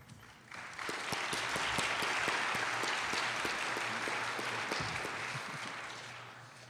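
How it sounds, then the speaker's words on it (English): An audience at a Martin Luther King Jr. Day convocation at Beloit College breaks into sustained applause, a dense, steady wash of many hands clapping that swells quickly and holds before gradually easing. "give her another round of applause for that"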